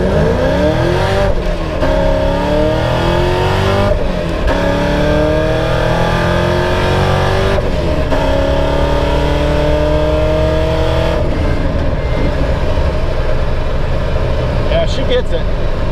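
A modified Pontiac GTO engine roars loud and close as it accelerates through several gears, its pitch climbing with each pull and dropping at every shift.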